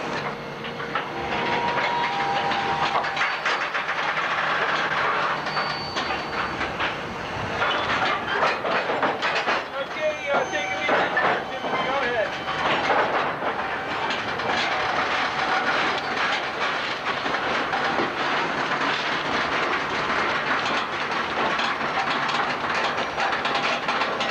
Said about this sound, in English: The brakeman comes down to divide the train.